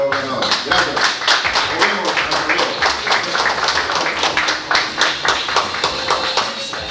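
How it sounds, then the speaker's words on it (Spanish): A crowd gives strong applause for the winners of a Hino Peru technical skills competition final, with rapid, crisp, closely spaced hand claps that keep a lively, even pace throughout. "fuertes aplausos"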